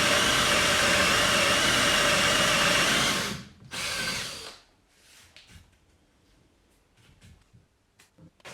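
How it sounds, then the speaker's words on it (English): An electric drill boring into wood while a homemade vice is built from bicycle parts, a loud continuous whine for about three seconds, a short second burst, then quiet handling clicks and knocks. "I think this drill will work nicely."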